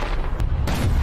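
Long-range artillery fires in a war film: two sharp, booming blasts about a quarter second apart over a steady low rumble, with no voices.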